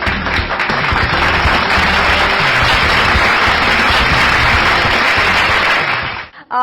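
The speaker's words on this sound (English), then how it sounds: "please put your hands together to welcome on stage Mr. D.K. Paridar" Loud, sustained applause at an international education and leadership awards ceremony, a full crowd clapping steadily throughout before it cuts out at the end.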